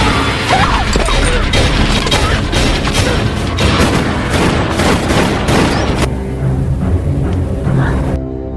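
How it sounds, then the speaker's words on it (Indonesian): Rapid bursts of gunfire in a film scene, loud and dense, with crashing impacts mixed in, before the action drops to quieter scattered thuds and rumble near the end. "Gina berhasil meloloskan diri walaupun tangannya terkena tembakan oleh Cliff."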